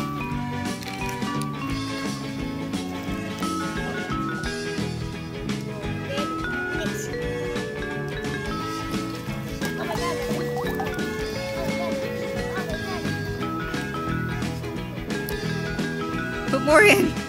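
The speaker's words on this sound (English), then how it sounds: "Should we see what happens when we pour some Insta Snow into the slime bath?" Insta Snow powder tipped into a slime bath set up outdoors in a pool, giving a steady wet squishing, sloshing texture with occasional drips, all mixed under continuous excited children's and adults' chatter.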